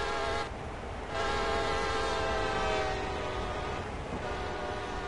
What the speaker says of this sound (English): I love the sound of train horns.